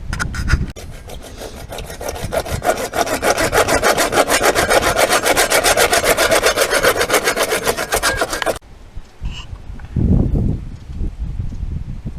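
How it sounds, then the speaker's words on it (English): Hand saw cutting through PVC pipe during a whole-home water filtration install, a fast steady rasping stroke rhythm held loud and close for about eight seconds, then it stops and a few faint knocks and handling noises follow. "I'm gonna go ahead and cut this PVC pipe"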